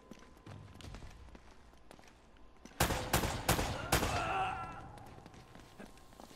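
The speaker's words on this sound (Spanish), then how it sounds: "También te están disparando a ti" Video game gunfire in Uncharted: a rapid burst of several loud shots fires in quick succession, then a lingering ringing tail, with quieter ambient game sound before the volley.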